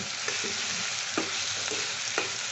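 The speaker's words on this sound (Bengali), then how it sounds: "আমি এখানে একটু হলুদ দিয়ে দিলাম" Turmeric fries in hot oil in a pan with a steady hiss, while a utensil scrapes and stirs in several short strokes close by.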